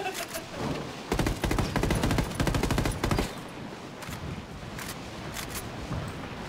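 Close rapid bursts of automatic gunfire from a Ghost Recon Wildlands firefight, a dense rattling volley that gives way to scattered single shots and quieter background noise.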